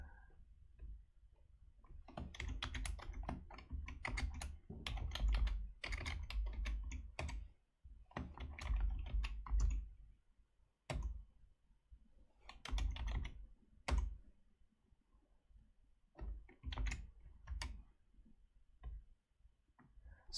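Rapid bursts of keystrokes on a computer keyboard while entering an asset number in Maximo asset-management software, clattering in uneven runs with short pauses between them, close and clear with no talking.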